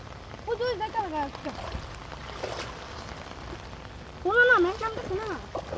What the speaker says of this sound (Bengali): বৃষ্টি বাইরে, ওই দেখো আকাশে প্রচুর মেঘ করছে।